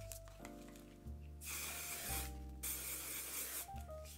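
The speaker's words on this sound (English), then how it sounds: "The one size setting spray, you guys," A makeup setting spray mists out in two or three hissing bursts, each a soft, airy spray of about a second, close up, over faint background music.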